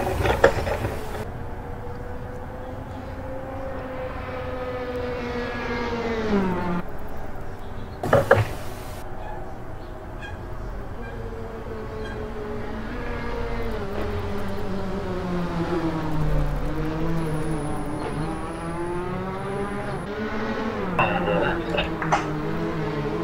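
Innovar team's number 23 race car laps Imola circuit in Italy in Assetto Corsa during a DTM championship race, its engine note climbing and falling steadily through gear changes with a brief sharp clunk partway through.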